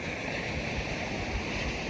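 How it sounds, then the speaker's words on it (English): Waves roll in on a Newport beach, heard as a continuous broad rush of surf, fairly close, with some wind buffeting the microphone and no talk. "There's the ocean."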